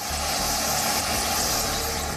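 An Apache attack helicopter of the Indian Air Force gives a steady, loud, dense rotor and turbine roar that holds constant throughout, with no voices over it.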